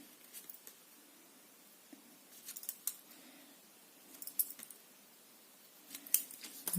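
Scissors snip paper in short, crisp cuts while a mini album is being made, quiet and close with small pauses between snips.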